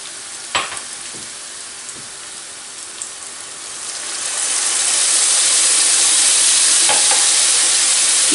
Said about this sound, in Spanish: ahora le vamos a echar el vinagre